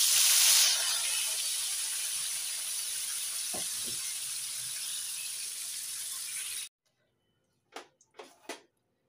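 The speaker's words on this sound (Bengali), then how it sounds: "এবারে বেগুনগুলো ভেজে নিচ্ছি" Eggplant slices frying in oil, a loud continuous hiss and sizzle up close for several seconds, then cutting off abruptly and followed by a few brief clattering sounds.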